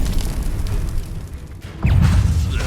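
Bombarda spell exploding in Hogwarts Legacy combat: a deep, loud boom erupts about two-thirds through and rumbles on to the end, over a busy low background of battle noise.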